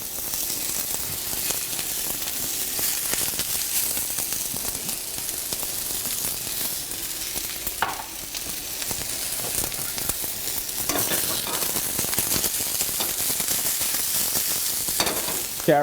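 Cabbage sizzles loudly and steadily in a hot curry pan, a continuous close frying hiss with occasional stirring scrapes and no talking.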